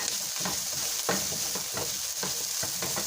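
Garlic sizzles in oil in a pan, a steady close fry broken by repeated scraping strokes of a spoon or spatula stirring it.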